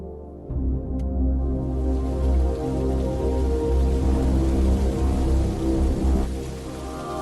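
Steady rain falls at night, a continuous dense wash of drops on surfaces that holds at an even level from start to finish with no voices.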